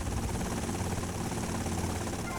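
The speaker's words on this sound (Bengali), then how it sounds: "হেলিকপ্টার তো" A helicopter in a survival video game gives a continuous, dense rotor-and-engine roar that stays steady and fairly loud throughout the short stretch, with no other sounds.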